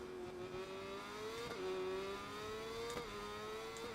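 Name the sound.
R1 superbike engine purring in distance, SBK 22 video game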